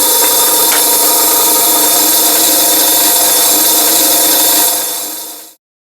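A saw blade cutting through a piece of wood makes a loud, steady mechanical whine with a rough grinding rasp, running continuously before cutting off abruptly.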